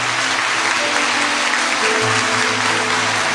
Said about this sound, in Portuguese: Dê uma fortíssima salva de palmas para o Senhor Jesus.